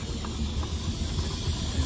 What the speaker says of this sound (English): Small steam engine.